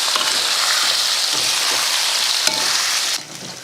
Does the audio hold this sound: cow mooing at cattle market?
no